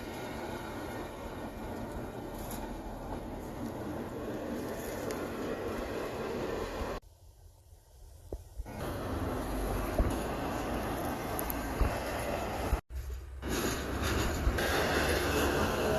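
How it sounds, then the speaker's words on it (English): A long CSX freight train rolls past outdoors with a steady broad rumble and rattle, briefly dropping away as the end passes before the surrounding roar returns; no talk. "This has been the longest train yet. Out of all the trains today, this has been the longest. And there is the end."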